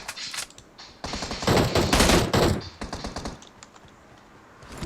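Rapid bursts of automatic gunfire from the PUBG Mobile battle royale game, loud and dense for a couple of seconds before trailing into scattered shots.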